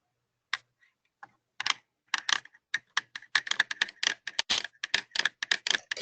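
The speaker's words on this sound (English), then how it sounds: "Can someone please stop writing or typing something?" Rapid typing on a computer keyboard, a dense run of sharp key clicks with short pauses, close and clear with no talking.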